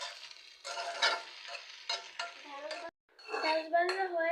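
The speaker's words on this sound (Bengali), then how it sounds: "এসে দেখি আম্মু ঢেঁড়স ভাজি করতেছে।" Okra frying and being stirred in a home kitchen pan, with repeated scraping and clinking of a utensil against the metal in short bursts, close and fairly loud, with a brief pause before the stirring resumes.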